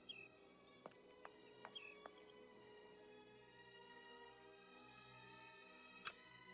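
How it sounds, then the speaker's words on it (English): A strange bird calls in Sherlock Holmes: Nemesis, a faint, high, wavering cry. A few sharp clicks sound over a quiet, droning ambience, and a single knock comes near the end. "Do you hear it, Holmes? A strange call"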